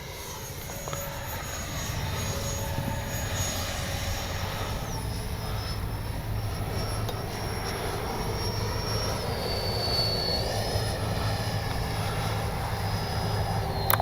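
A Freewing 64mm JL-10/L-15 twin-EDF RC jet model flying at a model airfield, a steady whining ducted-fan roar that holds constant throughout, with slight pitch shifts as it passes.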